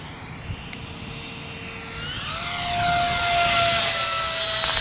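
A Hobby-Lobby MiG-15 radio-controlled model jet coming in to land with flaps down, its electric ducted-fan whine rising in pitch and growing louder as it nears, steady and close by the end.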